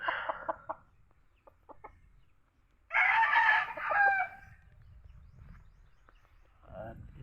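A young rooster, a stag, gives a short hoarse crow, close and fairly loud, between softer clucks from other chickens, with a person talking quietly at times.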